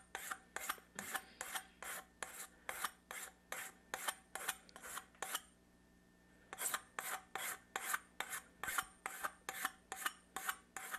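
A regular hand file rasps down a lead pipe toward the brass fitting for an old-school lead wipe joint: steady, evenly paced back-and-forth strokes, close and gritty, with one short pause midway.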